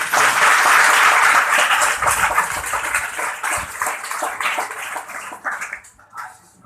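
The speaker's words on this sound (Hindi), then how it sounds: "जोरदार ताली बजाओ" Church congregation at a prayer hall claps loudly in a dense burst that gradually thins and fades out over several seconds.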